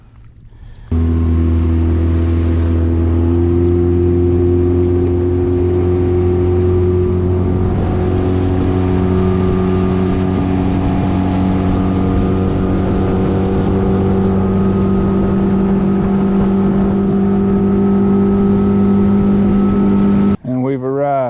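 A motorboat engine runs steadily and loud at close range for about twenty seconds, a constant droning hum with a steady pitch, on a fishing trip between spots.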